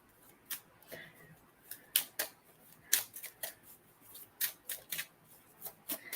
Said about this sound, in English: this deck's a lot easier to shuffle